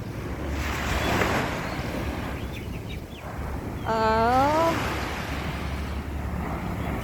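Waves wash along the Ma Wan shoreline at high tide in a continuous rushing surf, with wind buffeting the microphone and a brief whistling tone partway through.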